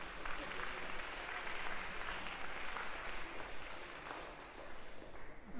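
A lecture-hall audience gives a steady round of applause at a university computer science class, dense clapping sustained across the whole stretch at moderate level with some voices mixed in.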